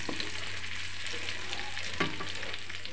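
Onions sauté in a pan with a steady close sizzle, broken by a few light stirring scrapes.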